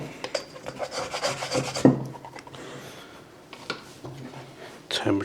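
A dough scraper rasps and rubs across sourdough in a bowl or on a bench, in steady close scraping strokes with brief pauses, while someone talks softly underneath.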